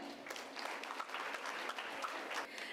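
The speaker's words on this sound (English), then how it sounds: "Let's give her a radiant cheer." An audience claps steadily through a graduation ceremony at a women's PU college in Bangalore, a dense, continuous patter of many hands at moderate loudness.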